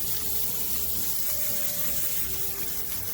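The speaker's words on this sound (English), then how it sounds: "I'm just going to make sure it gets a really good rinse." Water runs steadily as tiny tumbled topaz pieces from a rock tumbler are rinsed, a continuous splashing rush like a tap or pump flowing without pause at moderate loudness.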